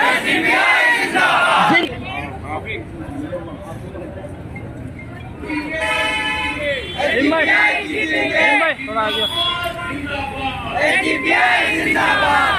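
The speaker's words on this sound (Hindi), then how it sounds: "हाथ उठाकर बोलिए जिंदाबाद, जिंदाबाद।" A large political rally crowd at an SDPI welcome program chants Zindabad with raised hands, loud massed voices rising in waves after a speaker leads the call.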